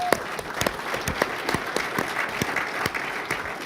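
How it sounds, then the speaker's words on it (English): A conference audience at an innovation policy summit claps in a brisk, fairly close burst of applause, the individual claps sharp and distinct throughout the short stretch. "they're the ones who deserve a round of applause"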